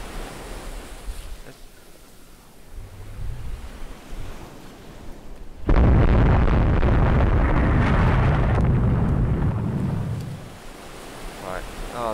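A torpedo strikes a warship in the naval strategy game Rule The Waves 2, set in a Caribbean battle. Low wind-like rumble suddenly gives way to a loud, sustained roaring blast lasting several seconds before fading back down.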